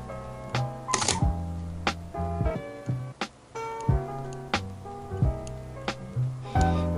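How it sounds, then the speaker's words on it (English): Mechanical clicks and snaps from the shutter mechanism of a Fotosniper camera being worked on, several sharp metallic clacks at irregular intervals with small rattles of metal parts between them, close up and alone. "the shutter activates just then"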